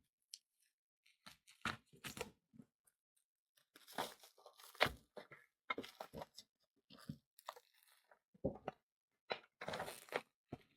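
A package of aluminum shower enclosure brackets cut open with scissors, close and crisp, with snips, tearing and crinkling plastic in irregular bursts separated by quiet gaps.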